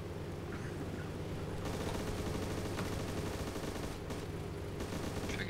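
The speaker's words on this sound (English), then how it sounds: "That was the farthest headshot I've ever done with a handgun." Handgun shots in the survival game DayZ ring out as a few sharp, fairly quiet cracks spaced seconds apart over a low steady background hum.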